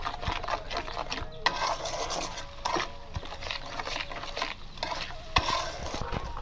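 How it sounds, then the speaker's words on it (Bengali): Spice paste for chicken biryani fries and sizzles in a pan while a spoon stirs and scrapes it repeatedly, with soft clacks of the utensil against the pot over a steady low crackle. "ভালোভাবে মশলাটা কষিয়ে দেবে, তারপরে আমি মাংসটা দেবো"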